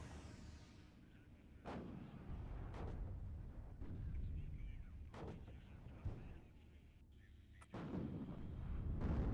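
In the video game WARNO, a Gepard anti-aircraft gun and other units fire in a string of heavy booming shots, about five or six spread over several seconds, against a low rumbling battle din.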